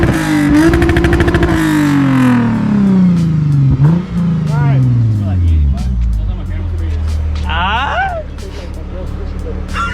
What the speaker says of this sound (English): Oh, we can rev it?